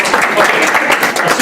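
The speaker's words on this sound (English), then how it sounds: "Let's give a big round of applause for Steve." A brief, steady patch of audience clapping during a fitness-for-aging class, dense and even for its short length.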